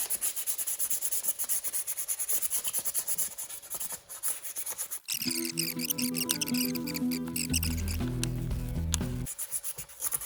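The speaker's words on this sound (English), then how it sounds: "This is just basic wet sanding." Steady hand rubbing and scraping of wet sanding on a 1989 Kawasaki Ninja ZX7 motorcycle frame, close up and rhythmic, with a tonal musical hum joining partway through.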